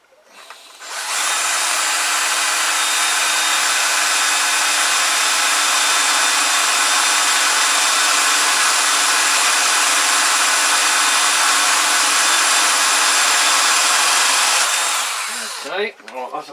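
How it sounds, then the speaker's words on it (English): A power drill bores a pilot hole for an accessory mount on a Keeway RKV125 motorcycle, producing one long, loud, steady high-pitched whine that starts abruptly and winds down at the end. "Okay, right, that's a pilot drill."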